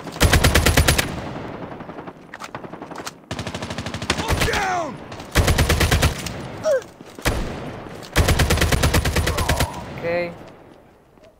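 Bursts of ASM-10 rifle fire in a Call of Duty match, loud rapid automatic volleys in four or five long strings separated by short pauses, with a brief spoken word between bursts.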